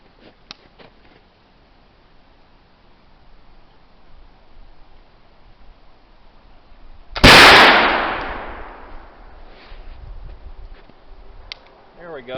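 A flintlock gun fires once at a milk jug outdoors on a gusty day, a sharp loud crack with a short decaying boom after several seconds of wind noise, followed by faint ticks.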